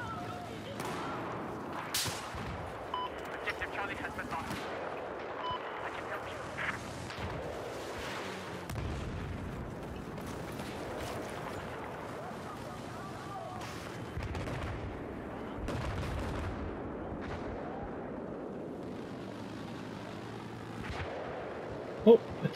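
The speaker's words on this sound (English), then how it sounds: "I'm getting shot at." Gunfire and artillery blasts in a Battlefield 4 match, with repeated sharp shots and booms scattered over a steady battle din, loud near bursts mixed with more distant fire, and a player talking at times.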